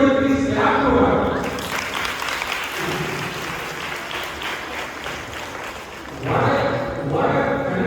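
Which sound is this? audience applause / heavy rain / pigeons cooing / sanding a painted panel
audience applause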